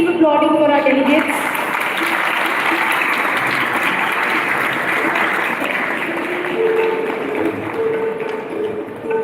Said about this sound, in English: I request the audience to please keep applauding for our delegates.